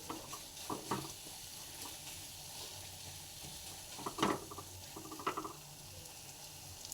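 Pasta with a freshly cracked egg is stirred in a hot pan, a constant quiet sizzle broken by a few soft scraping strokes of a spoon against the pan.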